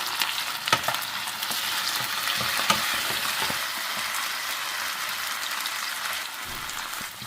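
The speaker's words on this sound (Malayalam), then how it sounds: "നമ്മളുടെ ആ ചിക്കൻ ഫ്രൈ ആയിട്ടുണ്ട്" Chicken frying in hot oil crackles and sizzles steadily at close range, with occasional scraping clinks of a spoon stirring the pan, and no voices.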